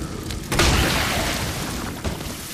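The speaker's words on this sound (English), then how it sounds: "decided to fire off a quick acid round to get around him" An acid round fired from a grenade launcher in Resident Evil 2 Remake, a sharp booming shot over dense game noise, followed by a rumbling tail and a smaller thump a moment later.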